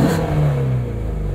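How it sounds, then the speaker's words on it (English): A 2020 Ford Mustang Shelby GT350R engine in normal exhaust mode gives a steady, loud, close idle-to-rev drone that stays fairly subdued and even throughout. "We have a couple of different exhaust modes, open and closed."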